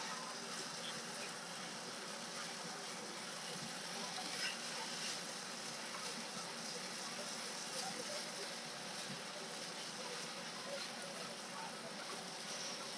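Onion and spring onion frying in hot oil while making jumbo stuffed tofu fritters, a steady dense sizzle running evenly throughout with faint stirring underneath.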